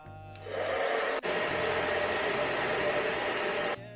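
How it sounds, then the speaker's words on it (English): A hair dryer on highest heat and lowest fan speed switches on and blows a steady, loud whoosh for about three seconds, with one brief dropout, then cuts off. "take your blow dryer and put it on the highest heat but at the lowest strength"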